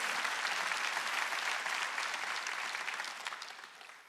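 Steady applause from a church congregation at an Easter Sunday service, dense and continuous, fading gradually toward the end with no voices over it.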